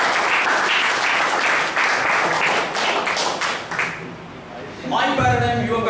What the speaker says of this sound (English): big round of applause to those masters.